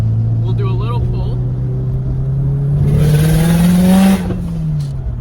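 A 2004 Subaru WRX STI engine revs up hard under acceleration, its pitch climbing steadily to a loud peak before easing off, heard from inside the car with a turbo whine over the drone.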